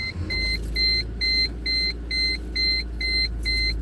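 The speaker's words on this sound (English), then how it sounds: "Let me crank the car." A car engine cranks and settles into a steady low rumble, with a chime beeping at a regular rhythm over it.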